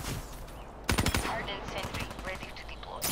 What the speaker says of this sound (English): Shot through the wall.